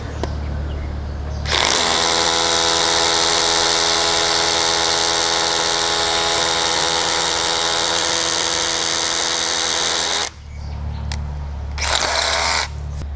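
A DeWalt DCH172 cordless rotary hammer with a 10 mm bit drills continuously for about eight seconds with a loud, harsh buzzing whine, then stops, followed by a short second burst.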